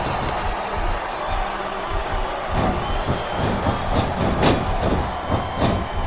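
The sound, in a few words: crowd noise in wrestling video game SmackDown vs Raw 2007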